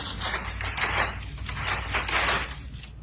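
Dry rustling and crackling of large palm tree fronds, continuous and fairly loud with surges as the leaves move, close by.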